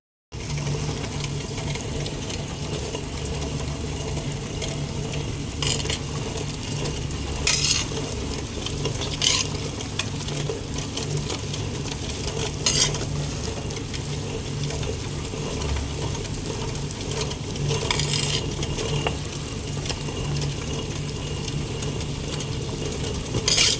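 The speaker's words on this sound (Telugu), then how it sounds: "మేమైతే గ్రైండర్లో రుబ్బుకుంటున్నాం" A steady, continuous mechanical churning and whirring of a wet grinder grinding red chilli paste at a constant pace, close by, with no talking.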